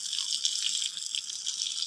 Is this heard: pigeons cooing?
no